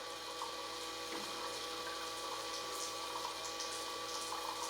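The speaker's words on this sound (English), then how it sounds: "I can hear the suction of the water into the back tank." A steady mechanical whine hums alongside a continuous watery hiss as an RC fire truck's (Cross RC UC6) water pump draws water into its rear tank, constant and unbroken throughout.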